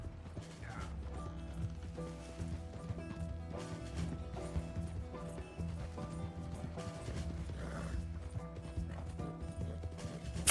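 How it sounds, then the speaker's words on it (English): Horse hooves clip-clop in Red Dead Redemption 2, a steady rhythmic trot with rattling tack and gear noises, heard throughout over a low game backdrop. "My horse is moving so slow."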